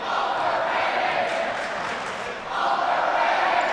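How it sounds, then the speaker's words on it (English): LD Bell student section chanting at a basketball game during a free throw, a loud massed crowd voice rising and falling in a steady rhythmic chant that fills the gym. "Overrated chance coming from the LD Bell crowd."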